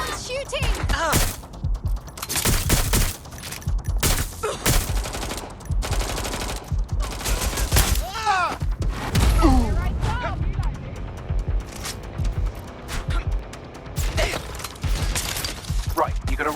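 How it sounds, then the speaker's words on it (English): Bursts of automatic gunfire in the video game Watch Dogs Legion rattle repeatedly, with a steady background of game sound and voices talking throughout. "Someone's shooting!"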